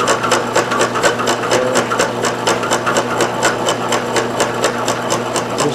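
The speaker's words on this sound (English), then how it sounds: "I'll let it cut right on through there until we get it clear and we can see the hole too." A gear-cutting machine cuts through a gear blank. Its cutter gives a loud, steady rhythmic chatter, several even strikes per second, running without a break.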